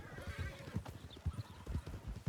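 Horse hooves clip-clop in a steady rhythm in the Red Dead Redemption game world, joined by a brief whinny, all fairly close and moderately loud with no talk over them.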